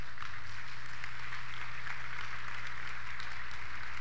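Applause from a large assembly audience in a hall, a dense, continuous clatter of many hands clapping at steady loudness throughout, heard from within the crowd.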